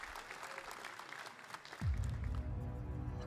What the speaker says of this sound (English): You heard the crowd. The crowd actually, you could hear them explode a little bit.